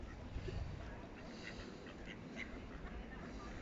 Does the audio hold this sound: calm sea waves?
no